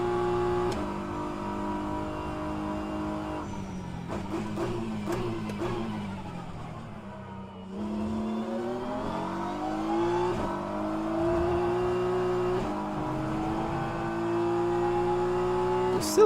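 A race car engine laps Bahrain in rFactor 2, holding a strong, steady high-revving drone with rising and falling pitch through gear changes and a brief dip near the middle. No one speaks over it.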